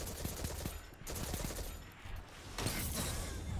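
Rapid gunfire in a competitive shooter, bursts of quick close pops followed by a louder burst near the end, over a busy game soundscape.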